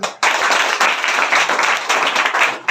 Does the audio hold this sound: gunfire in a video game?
no